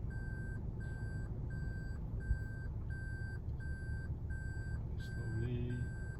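Toyota Alphard sounds evenly spaced reversing beeps at a steady rhythm while backing into a parking space under intelligent parking assist, set over a low hum of cabin and road noise, with a brief voice prompt near the end.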